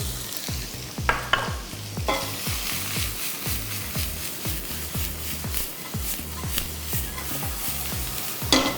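Finely chopped onion and chillies frying in a pan with cumin, a steady close sizzle broken by rhythmic scraping strokes of a spatula stirring throughout.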